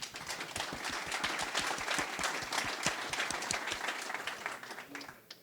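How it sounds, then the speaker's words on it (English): Applause from an audience at a business forum in Turin as a guest, the PayPal co-founder, arrives on stage: steady dense clapping from a crowd, fairly distant, fading out near the end. "A round of applause, please."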